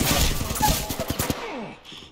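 Rapid bursts of automatic gunfire from an Apex Legends battle, loud sharp cracks in quick succession that taper off into a fading tail after about a second and a half.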